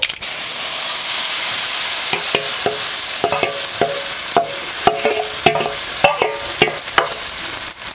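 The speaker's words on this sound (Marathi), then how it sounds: "असं आपल्याला हलवून घ्यायचं" Tempered vegetables get stirred through hot oil with mustard seeds and cumin for a potato and gram flour snack: a loud, continuous frying hiss broken by repeated sharp spatula scrapes and knocks against the pan, close up, with nobody speaking.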